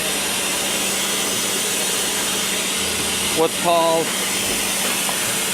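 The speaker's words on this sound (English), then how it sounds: "Eric says this is a vacuum corker, and there's really complicated technology at work here. And this is about to make a lot of noise." A vacuum corker on a wine bottling line runs with a steady mechanical hum and hiss, then gives a short louder clunking, rattling burst near the end, while a person speaks briefly over it.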